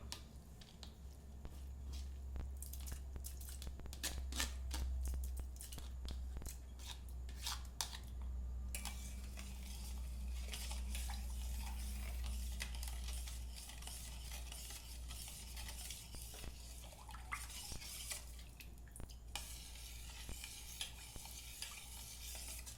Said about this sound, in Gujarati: ત્રણ ચાર મિનિટ હલાવશું એટલે સાકર મિક્સ થઈ જશે.